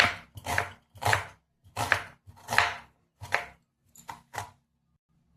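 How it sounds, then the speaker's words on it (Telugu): Knife chopping green chillies on a cutting board in a home kitchen, a series of sharp, close, distinct chops in an uneven rhythm with brief pauses between strokes. "నేనైతే ఒక 3 పచ్చిమిర్చి అయితే తీసుకున్నాను. ఇలా కట్ చేసుకుందాం."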